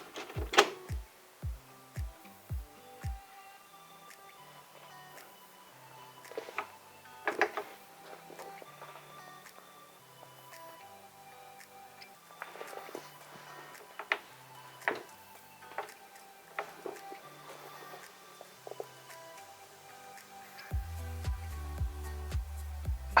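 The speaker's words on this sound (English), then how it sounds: "And that's just read the drive." A Tatung Einstein TC-01 floppy drive reads a disk alone in a quiet room: a quick run of evenly spaced clicks opens, then scattered soft ticks and stepping chatter follow, ending in a low steady whir.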